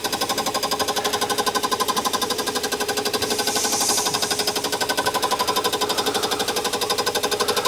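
A mini lathe fitted with a fly cutter machines the back face of a tailstock, giving a steady, fast rattling cutting chatter at moderate level with no voices.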